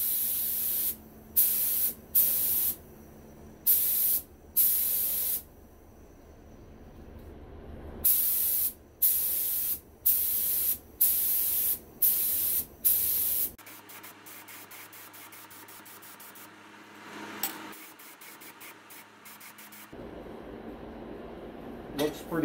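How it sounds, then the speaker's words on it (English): Several short aerosol spray bursts into a 1983 Yamaha YZ490 engine air filter hiss in a quick rhythm, pausing and repeating, followed by quieter rustling and handling noises. "a little sample spray into the filter there just to make sure"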